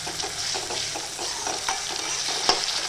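Garlic paste sizzles steadily in hot oil, a close, dense crackle with faint scrapes from stirring and one slightly sharper knock near the end.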